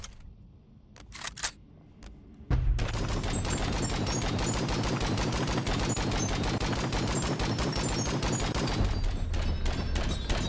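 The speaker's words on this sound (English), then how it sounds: "It's a light machine gun" A light machine gun in the VR game BONELAB fires a long sustained burst of rapid, evenly spaced shots after a couple of quieter clicks and handling noises.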